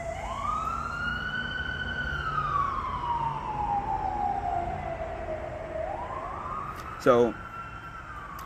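An emergency vehicle siren passes outside, a loud wailing tone sweeping up and down steadily over a constant background rumble, with a brief burst of sharper yelping near the end and a person starting to speak.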